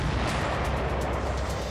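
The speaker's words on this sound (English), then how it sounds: "It is nothing compared to the explosion that follows" Explosions tear through a ship's saloon, heard as a loud, sustained deep roar of rumbling blast noise with faint crackling bursts layered on top and no pause across the whole moment.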